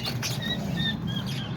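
Cage birds—cockatiels, lovebirds, parakeets and diamond doves—give thin, high chirps and short tweets over a steady low room hum, soft and somewhat distant.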